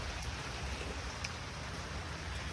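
Rain falls as a soft, even wash of hiss, steady and fairly quiet for the whole stretch with no voices over it.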